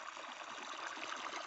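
Irrigation water runs steadily into a farm field, a faint, even hiss of flowing water with no talk over it.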